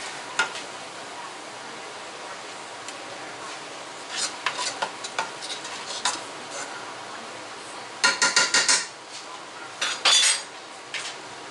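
Flour cooking in butter and garlic in a pan gives a soft low sizzle beneath bursts of metal utensil scraping and clinking against the pan, growing busier toward the end.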